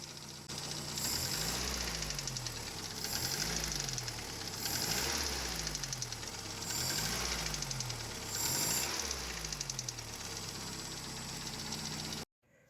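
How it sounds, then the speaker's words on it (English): A VW Golf Mk1 engine with piston slap runs nearby, a steady mechanical rattle and knock riding on the motor's hum, with the revs swelling and falling in a regular repeating cycle before cutting off at the end. "I have piston slap on this motor, the white Golf 1"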